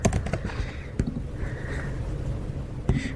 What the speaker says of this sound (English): So I'll just type in